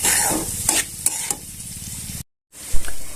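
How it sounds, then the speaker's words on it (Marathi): Semolina (rava) roasts in hot ghee over a low gas flame, stirred briskly: a close, loud sizzle with repeated scraping strokes of the spoon, broken by a brief cut to silence before the stirring resumes. "आपण रवा घालून घेऊया छान मस्तपैकी आपल्याला कमी गॅसवर मस्तपैकी लाल असा रवा भाजून घ्यायचा आहे"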